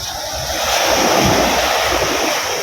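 Strong, steady roar of ocean surf with breaking waves, loud and close, mixed with some wind rumble; no voices.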